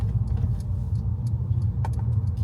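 A car on a driving-test route in Anniesland, Glasgow pulls away with a low, steady engine rumble and road noise inside the cabin, plus a few light ticking sounds.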